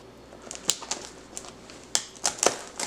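A knife cuts into a crispy cast-iron pizza cooked over a campfire, making a scatter of sharp, close crunching cracks at irregular intervals over about three seconds. No one talks.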